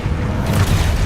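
A blasting spell explodes in the Harry Potter game Hogwarts Legacy, a short, loud, booming burst that stays dense and rumbling for about a second, without any speech.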